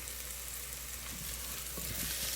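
Food fries in a pan at home while being stirred, a steady soft sizzle throughout with faint scraping stir sounds near the end, quiet and with no talk.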